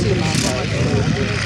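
A WW1-era pocket Sopwith Camel replica at an air show drones with a steady, rumbling propeller engine, loud and continuous throughout, with a voice talking over it.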